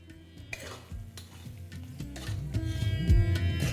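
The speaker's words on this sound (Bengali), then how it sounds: "এটাকে আপনারা ততক্ষণ কুক করুন যতক্ষণ না টমেটোটা একটু গলে গলে আসছে" Tomato wedges cooking with salt in a pan for a Bengali katla fish curry, giving a soft continuous sizzle with repeated stirring and scraping knocks that grow a little louder toward the end, no voices.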